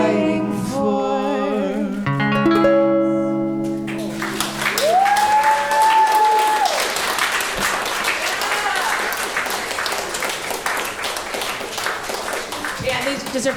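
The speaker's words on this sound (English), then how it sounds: "they deserve extra clapping" A sung music ending fades into crowd applause and clapping at a book club performance, with a sustained vocal note over the opening before steady, dense clapping fills the rest at fairly close range.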